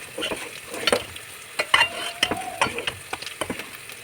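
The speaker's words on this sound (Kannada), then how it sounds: "ಚೆನ್ನಾಗಿ ತಿರ್ಸೋಣ" A utensil scrapes and clinks against a cooking pan in repeated uneven strokes, stirring in sambar powder over a soft sizzle, close by and with no talking.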